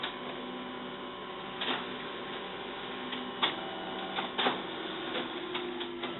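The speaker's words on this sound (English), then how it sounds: "It's not the fastest printer on earth." A printer hums steadily while feeding a page, with occasional clicks and ticks over a constant mechanical drone.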